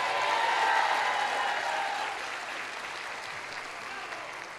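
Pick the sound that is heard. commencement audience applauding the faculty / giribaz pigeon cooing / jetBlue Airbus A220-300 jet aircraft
commencement audience applauding the faculty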